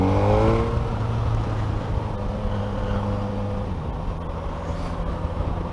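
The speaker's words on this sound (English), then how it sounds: "Lorry coming up." A lorry approaches in congested road traffic, heard from a Suzuki GSX-S1000F motorcycle filtering between vehicles. Steady droning engine tones shift in pitch under constant wind rush, with no talking.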